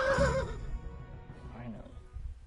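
A horse in the video game Kingdom Come: Deliverance gives a loud, close whinny at the start that fades over a second or two, with faint game noise afterward.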